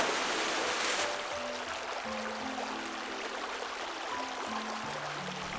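The Sipna river flowing through forest in Melghat Tiger Reserve, a soft, steady rush of running water heard at a distance beneath a slow, low musical melody.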